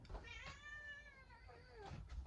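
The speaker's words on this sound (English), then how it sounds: "I think that's my cat screaming." A cat lets out a drawn-out, wavering yowl, then a shorter second cry, close and clear against a quiet background.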